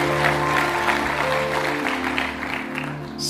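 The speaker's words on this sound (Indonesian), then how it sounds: "Tepuk tangannya kurang semangat buat GSJS." A church congregation applauding during a service, a sustained wash of clapping with a steady musical drone and chords underneath.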